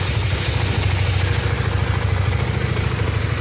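Honda CB150R motorcycle engine running at idle after a check-engine module install, a steady close, loud, even putter with light mechanical clatter and no voices.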